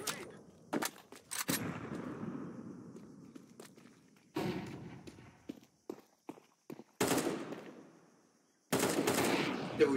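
Bursts of gunfire from the video game Counter-Strike, several rapid automatic volleys and single shots spread across the stretch with short gaps, loud and close, with no talk over it.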